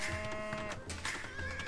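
Cattle lowing in Age of Empires 2, several drawn-out moos one after another, each strong and close and heard alone with no talking.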